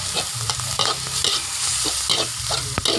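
Egg stir-fried in a hot pan for tom yum fried rice, with a steady sizzle and repeated scraping strokes of a spatula, close and continuous without speech.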